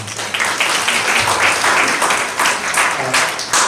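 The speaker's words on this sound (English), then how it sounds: "A round of applause to our panelists." Applause for panelists at the close of a Kenyan moot court panel discussion: a roomful of people clapping steadily, loud and near, with low rumbles beneath.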